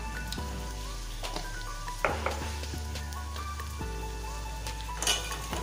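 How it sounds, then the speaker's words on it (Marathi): Field beans (pavte) roast in hot oil with masala, giving a steady close sizzle and crackle with a few louder stirring scrapes over a constant low hum. "आता चांगले पावटे ह्या तेलामध्ये भाजून घ्यायचे, जो आपला मसाला आहे त्याच्यामध्ये"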